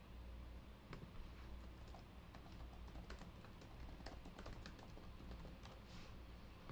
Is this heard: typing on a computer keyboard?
yes